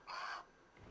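Bird call from the video game Grounded, a single harsh cawing squawk of about a third of a second, loud and close, followed by quiet game ambience.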